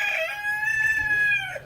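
Chickens in a backyard coop, with one bird giving a single drawn-out crow that fades at the end over a faint low hum.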